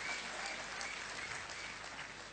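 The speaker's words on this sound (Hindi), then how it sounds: "ताली तो बजाइए, मिलने वाला है" Audience applause at a talk in a hall, a steady dense wash of many hands clapping with no let-up for a couple of seconds, moderately distant and fairly quiet.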